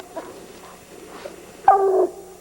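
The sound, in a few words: hunting dog barking at tree during bear season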